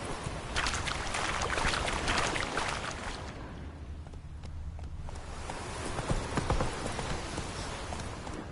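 Horse hooves galloping in The Witcher 3, a steady rhythmic clatter of hoofbeats over a continuous bed of ambient noise, with a brief quieter stretch midway.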